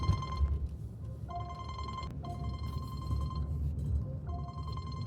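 An incoming call makes a phone ring in a snowy barn setting, a repeated electronic tone pattern that cycles several times at moderate volume over a low background rumble.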